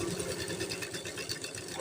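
A sewing machine runs continuously while attaching the lining to the main fabric of a kurti, producing a dense, even mechanical whir with a fast rhythmic chatter, close up and without any voices.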